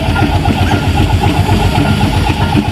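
Miniature Foden traction engine built in the 1970s runs past at a steam rally, a loud, close, steady rhythmic chuffing and mechanical clatter with no voices over it.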